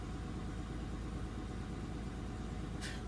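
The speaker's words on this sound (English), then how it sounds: "I mean, it sounds good, but it's running rough." A car engine idling rough with a noticeable vibration, a steady low rumble heard up close for a few seconds, with a brief hiss near the end.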